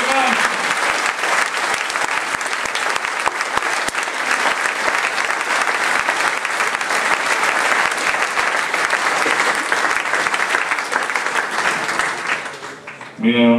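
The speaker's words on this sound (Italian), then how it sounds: "E allora un grido, un applauso." An audience at a public talk breaks into sustained, dense applause that fills the room for over twelve seconds, then fades as a voice returns at the end.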